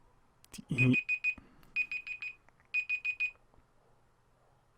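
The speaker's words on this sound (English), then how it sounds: "my alarm went off for the laundry" A laundry alarm goes off indoors, sounding three bursts of four rapid high-pitched electronic beeps in even rhythm, with a short low voice sound just before the first burst.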